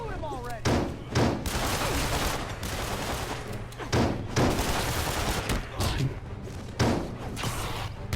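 Gunfire in Marvel's Spider-Man on PlayStation 4: loud, repeated sharp shots and impacts in irregular clusters across the whole stretch, with a voice talking over the action.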